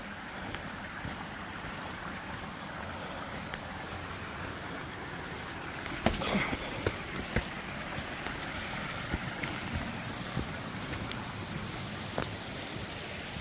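Creek water at a hiking trail crossing rushes in a steady, close, broadband wash, with a few faint knocks partway through and no voices.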